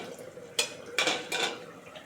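A metal cooking pot lid lifted off a simmering fish curry, giving a few soft clanks and scrapes over a steady hiss of bubbling liquid, close by and fairly quiet.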